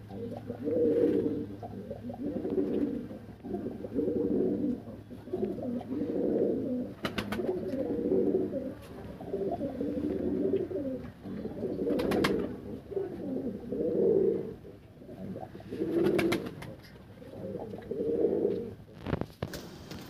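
A pair of Andhra pigeons, male and female, coo in repeated rolling phrases at a steady rhythm, close and fairly quiet, with a few sharp clicks between calls and no talking.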